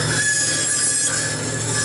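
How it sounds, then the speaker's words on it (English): A bandsaw blade cutting a tight curve in hardwood gives a steady close-up whir with a thin, high squealing whine running through it, continuous and unbroken. "You can hear the blade stressing a tiny bit."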